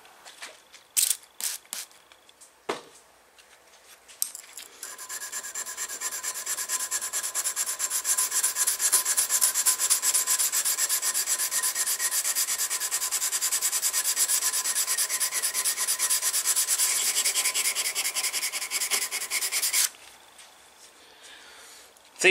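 A knife blade is hand sanded with 320 grit sandpaper in a steady, rapid back-and-forth rubbing that runs continuously for about fifteen seconds, preceded by a few scattered clicks and taps.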